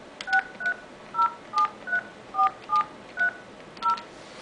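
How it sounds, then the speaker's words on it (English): Keypad tones ring out on a Cisco desk phone as a number is dialed: about ten short, evenly spaced beeps, close and clear, over a quiet background. "I would just dial in our number."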